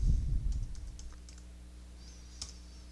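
A PIN typed on a computer keyboard: a short run of light, quick key clicks, then a brief pause and one final sharper tap, faint and close over a low hum.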